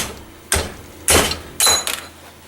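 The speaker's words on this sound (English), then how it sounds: "you should be able to take the hammer and just give it a good whap" Three sharp, loud hammer whacks on clamped steel bar stock, each a bright metallic crack with a brief ringing tail, evenly spaced about half a second apart.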